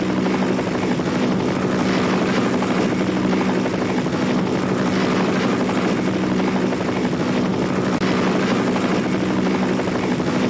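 A helicopter flying, part of a pair of helicopters travelling to Bamovskaya station, its steady rotor and engine roar filling the whole stretch loud and unbroken, with no voices over it.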